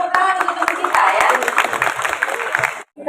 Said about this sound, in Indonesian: tepuk tangan untuk kita ya